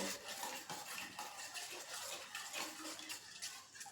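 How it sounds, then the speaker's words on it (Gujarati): A spoon stirs achar masala into oil for lime-chili pickle, giving steady scraping and clinking against the pot at close range, with no voices. "તેલમાં હું 5 ચમચી આચાર મસાલો એડ કરીશ અને બરાબર મિક્સ કરી લઈશ."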